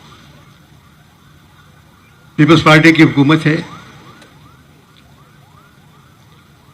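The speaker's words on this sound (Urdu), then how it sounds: "یہ سائرن کس کے لیے بج رہے ہیں؟" Emergency sirens wail outside on a Karachi street, rising and falling in steady repeated sweeps in the background, while a person speaks loudly over them for about a second.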